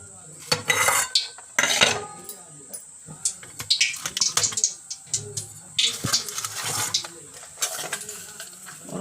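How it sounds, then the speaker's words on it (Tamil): Spices tempering in a pan for a coconut-based drumstick curry: a steady hiss of sizzling oil under repeated metallic clatter and scraping of a utensil against the pan. "இப்போ அதுக்கு ஒரு தாளிப்பு தான் இது."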